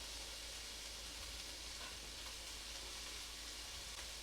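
Onions frying over medium-high heat in about a tablespoon of extra virgin olive oil give off a steady, dense sizzle and hiss that runs evenly throughout, with no voices over it.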